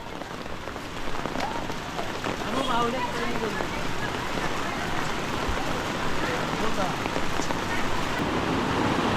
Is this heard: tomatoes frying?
no